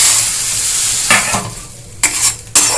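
Red lentil paste fries in a pan, a loud, steady sizzle close by, with three sharp scraping stirs near the end and no talking.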